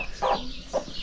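A chicken of notably large size on a village farm in Turkey gives two short clucks a moment apart, close by, over a steady outdoor background.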